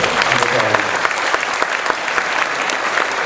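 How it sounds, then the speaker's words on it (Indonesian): An audience claps in a hall, dense and steady applause throughout, with a voice faintly audible beneath it. "Saya kira kita tepuk tangan untuk itu."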